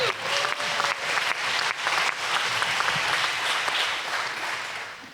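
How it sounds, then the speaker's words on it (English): A town hall audience in Washington, D.C. claps for a council member, steady dense applause that holds for several seconds before tapering off slightly at the end. "That's a pause to give him a round of applause."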